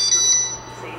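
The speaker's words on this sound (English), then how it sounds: "hold the switch for 5 seconds, then we'll hear a special beep sequence" A Pixhawk flight controller emits its special beep sequence confirming saved tuning, a short bright electronic tone sounding close and clear over a faint background hum.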